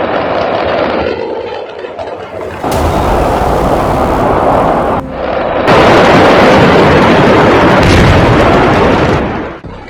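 Blasts at a firecracker factory in Harda, Madhya Pradesh, a series of very loud booming, roaring bursts that cut in abruptly and rumble on heavily, heard without speech.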